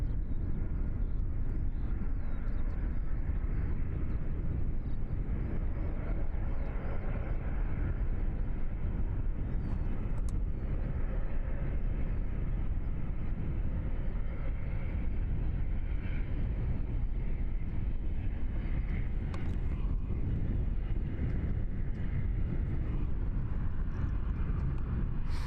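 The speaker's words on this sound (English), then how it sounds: "Great landing there from the Dash 8" A Dash 8 turboprop airliner rolling on the runway after a crosswind landing at Christchurch airport, a loud, steady, broadband engine roar with wind rumble, continuous throughout and no talk.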